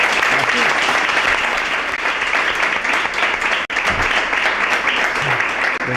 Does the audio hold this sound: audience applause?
yes